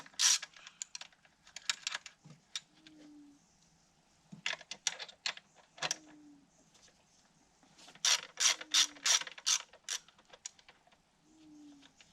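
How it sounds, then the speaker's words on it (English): Hand tools working on the air cleaner assembly of an old engine left sitting for 20 years in a paddock: bursts of quick ratcheting clicks and metallic ticks separated by short pauses, close and fairly quiet. "So first things first, I'll get this air cleaner assembly out the way."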